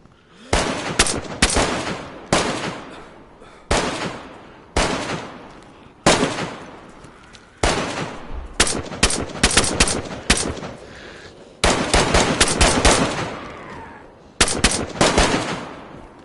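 Repeated bursts of automatic gunfire in the survival game DayZ on PS4, loud and close, firing in short volleys separated by brief pauses over roughly sixteen seconds.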